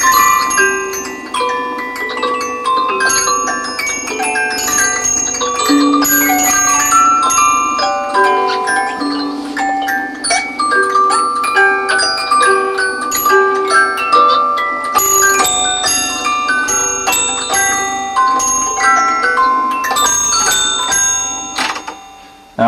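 An antique music box from around 1880 to 1890 plays a steady tinkling melody, bright plucked metal notes mixed with little chiming bells, continuous and close.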